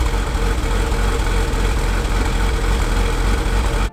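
A Porsche Boxster 986 engine runs with a misfire caused by a loose oil cap, giving a loud, steady, rough low rumble close by for the whole stretch, with no talking.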